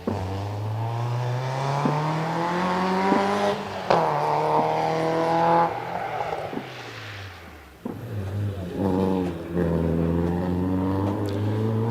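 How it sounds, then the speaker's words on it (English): A Mazda MX-5 rally car idles and revs at a hillclimb start line in the evening, its engine rising and falling in repeated throttle blips, loud and fairly close, with no talk over it. "up to the line comes car number 79. And this is the Mazda MX-5 of Lewis Porto"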